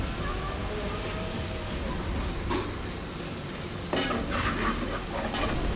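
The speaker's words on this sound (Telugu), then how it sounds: "అల్లం వెల్లుల్లి పేస్ట్ ఒక స్పూను వేసుకొని చక్కగా మొత్తం మిక్స్ అయ్యేంత వరకు చక్కగా కలిపేసుకోవాలి." Ginger garlic paste stirred into frying chicken, a spoon scraping and clinking in the pan over a continuous sizzle, close and fairly loud, with a couple of sharper metallic knocks.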